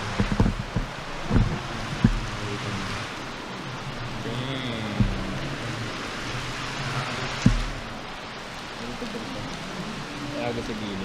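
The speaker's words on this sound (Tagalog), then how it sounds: "Kasi sobrang lakas talaga ng ulan, di kaya." Heavy rain pouring down in a steady, dense hiss that fills the whole stretch, with occasional louder splashes and knocks and a voice now and then beneath the downpour.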